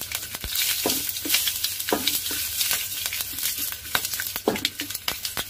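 Curry leaves crackle and sizzle in hot oil for a tempering, with sharp popping bursts and a spoon clinking against the pan, close and fairly loud, no voices.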